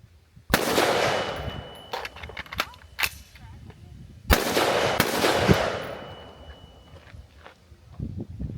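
Two loud, close gunshots from an 11.5-inch AR-15 build, each a sharp crack trailing into a long ringing echo, with faint clatter and movement between and after them.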